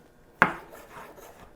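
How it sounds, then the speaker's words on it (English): A single sharp knife stroke through a mushroom on a cutting board, one distinct near cut followed by faint soft rubbing and quiet scraping. "I'm almost done slicing my mushrooms."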